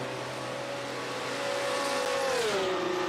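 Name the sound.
race cars in a sim racing video game at Nürburgring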